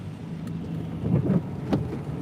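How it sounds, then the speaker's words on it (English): Rain falls steadily on a car during a drive on a rainy day, a dense low hiss and patter heard from inside the vehicle, with a few louder splashy swells and no talking. "it's raining"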